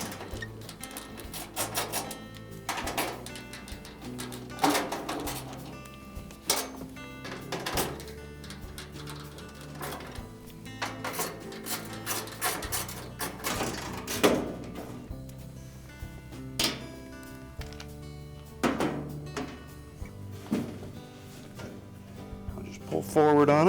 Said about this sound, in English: Our next step will be to remove these 4 5/16 screws that hold the front bulkhead in place.